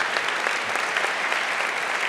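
Applause from the audience at an energy-day pitch competition, honouring the jury: a dense, steady wash of many hands clapping together, moderately loud and continuous, with no talk over it.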